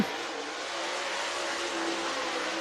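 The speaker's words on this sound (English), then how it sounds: "Josh Putnam, lap number 1." A dirt late model race car runs a qualifying lap at North Georgia Speedway, a distant, fairly faint steady engine roar with crowd-like broadband wash holding evenly throughout.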